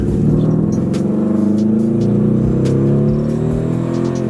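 A car engine with no power, running coolant near 135 degrees, roars steadily at full throttle, a strained, droning rev held for several seconds, close and loud with no voices.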